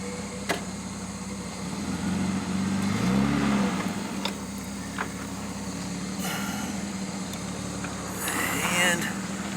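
A 1940 car engine idling: a steady low rumble holds throughout, with a brief swell in the middle and scattered clicks and clanks around it.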